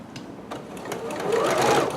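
A sewing machine back stitches a dress seam from a vintage Simplicity 8448 pattern, with a few quick, close needle taps and then a rising burst of rapid whirring stitching.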